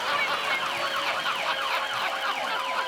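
Human voice imitating an ambulance siren in a comedy show, a continuous rising and falling wail that cycles rapidly and evenly, steady and fairly faint, with no other sound.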